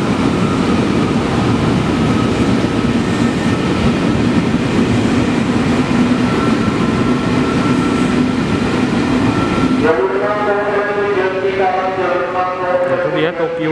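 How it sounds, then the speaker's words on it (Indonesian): A commuter electric train roars steadily past at close range through Jatinegara station, loud rumbling and rattling that cuts off abruptly near the end, leaving quieter station noise with a tonal hum. "Nah ini saya baru sempat mengabadikan kereta atau KRL melintas jalur 3 dan 8"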